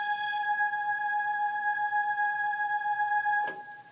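Sustained keyboard pad chord for a part in a song, held steady and clear on its own for several seconds, ending with a brief click.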